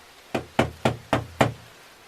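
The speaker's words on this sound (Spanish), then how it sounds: "Al llegar dio unos golpes en la puerta" Five firm knocks on a door, evenly spaced and close, each a short hollow thud with a brief ring, alone against near silence.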